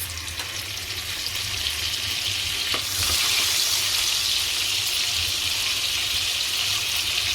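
A spoonful of butter hits two spoons of hot oil in a kadai, giving a close, steady sizzle that swells louder partway through and carries on alone without talk.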